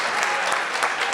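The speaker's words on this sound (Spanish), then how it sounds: "Un aplauso, por favor." An audience applauds a team during a session on teamwork, with thick, continuous clapping at a steady, fairly loud level throughout.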